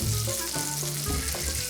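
Labda frying in butter and oil in a pan, a continuous quiet sizzle with faint crackles and a low background hum, no talking.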